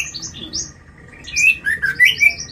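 A long-tailed murai bahorok (white-rumped shama) sings close and clear, a quick run of bright whistled chirps and trills that grows busier toward the end.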